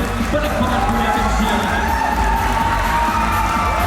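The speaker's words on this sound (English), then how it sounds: "Let us give them a big round of applause, ladies and gentlemen." An audience at a college Mister and Miss pageant cheers and applauds loudly, with shouts, whoops and a dense crowd roar that stays continuous and close throughout.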